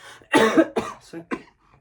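A few sharp coughs close by, one harsh burst followed by two or three shorter ones, then quiet.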